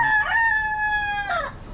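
A gamecock being conditioned for fighting lets out one loud, close crow, a drawn-out sustained call with a sharp rise at the start and a falling trail at the end, heard alone.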